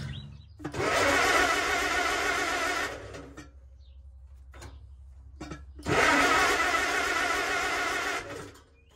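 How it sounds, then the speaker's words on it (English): An Allis Chalmers WD45 tractor runs with its PTO engaged, giving two loud sustained whirring, grinding bursts of roughly two and a half seconds each, separated by a quieter idle, close by with no talk. "Let's see if the PTO works."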